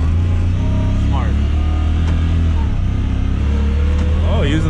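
A Honda Talon 4-seater side-by-side idles and revs in launch mode with a steady, close engine hum and brief pitch sweeps, while people talk over it.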